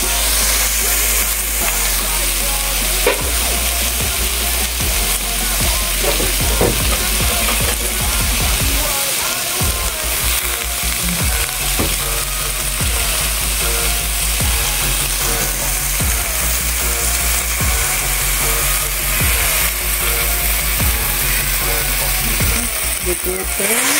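Tilapia fries in an oil-filled pan with a steady, close sizzle and spatter, joined by rhythmic scraping and stirring clatter and faint background talk.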